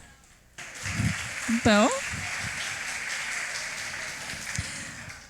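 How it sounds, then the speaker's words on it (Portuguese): Church youth gathering audience breaks into applause after a brief spoken word, a soft, rain-like patter of clapping that rises and then holds steady; a short vocal sound with rising pitch cuts in early. "E as palmas."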